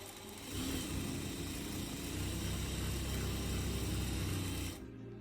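A home sewing machine stitching a seam runs at a steady, continuous whir for about four seconds, close and moderately loud, then stops abruptly.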